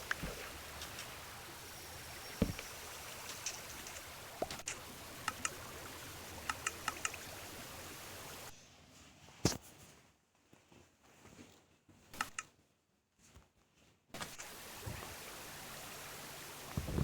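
Flowing water in LokiCraft gives a steady rushing stream, briefly dropping out midway, with scattered small clicks on top and no voices.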